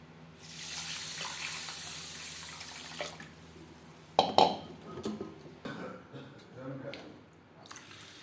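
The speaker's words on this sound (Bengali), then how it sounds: "পরিষ্কার করে ধুয়ে নেব।" Dry-roasted moong dal is rinsed under a running kitchen tap. A hiss of flowing water lasts about two and a half seconds, then gives way to clattering and splashing as the lentils are handled.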